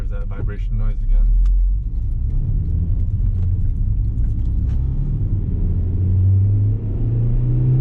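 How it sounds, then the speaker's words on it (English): Inside a modded 2010 Honda Fit Jazz GE8 on the move, a continuous low droning vibration and road rumble fill the cabin, swelling slightly near the end, with brief talking early on. "So there's that vibration noise again."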